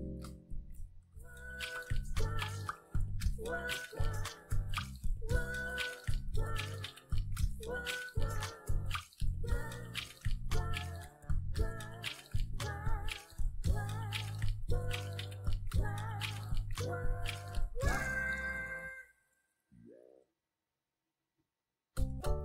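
Wet, squishy hand-washing water sounds from the video game Handwashing Helper come in a quick rhythmic series of splashes and drips, then stop abruptly near the end.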